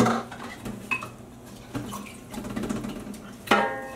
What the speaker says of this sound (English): I can use this to sort of rinse out some of these cups a little bit.